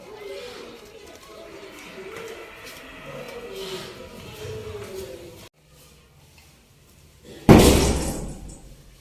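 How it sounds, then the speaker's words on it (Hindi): A house door in a village home is shut with a single loud, close slam after a stretch of muffled talking and a brief near-silent pause. "ऊपर से मम्मी का दरवाजा बंद कर देते हैं"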